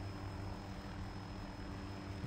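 Helicopter flying in the video game Arma, a steady, continuous rotor and engine drone held at constant loudness throughout, with no talk over it.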